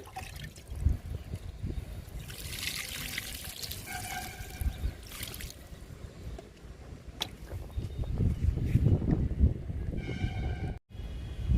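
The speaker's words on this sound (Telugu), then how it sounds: "పుదీనా కూడా ఇచ్చేద్దాము లిక్విడ్" Liquid fertilizer is poured onto potted mint plants, giving a steady trickling, splashing pour that swells louder toward the end, with no voices.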